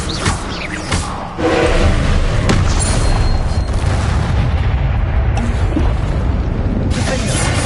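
A Confringo fire spell detonates during combat in Hogwarts Legacy, a loud booming blast that gives way to a sustained roaring rumble, with brief crackles and thuds before it.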